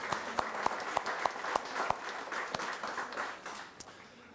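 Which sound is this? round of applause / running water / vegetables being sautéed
round of applause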